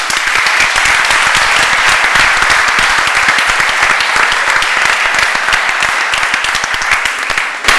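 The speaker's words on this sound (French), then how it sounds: "Je vais l'applaudir." Theatre audience clapping loudly and close after a stage performance, a dense, even burst of applause lasting several seconds with no talk over it.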